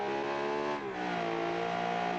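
Two-cylinder microcar engine in the BeamNG driving game, revving hard and close with a buzzy, harmonic-rich drone that dips briefly before climbing again, with no talk.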